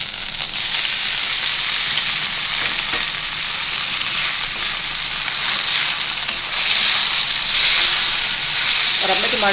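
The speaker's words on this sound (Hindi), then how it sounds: "ये मैं टमाटर डालूँगी इसमें" Tomatoes tossed into frying daal mash sizzle loudly and steadily in the pan, a dense continuous hiss with faint stirring ticks underneath.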